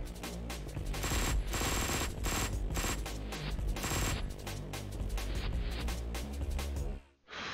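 Rapid, dense automatic pistol fire in Madness: Sierra Nevada rattles almost continuously in fast, loud bursts, then cuts off abruptly at the end.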